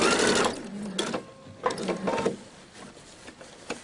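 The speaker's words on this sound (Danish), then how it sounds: "Og så skal vi sy tværs henover." A sewing machine sews across a fabric belt bag in short start-stop bursts, with the motor whirring and pausing as the curved corners are guided, close and fairly loud.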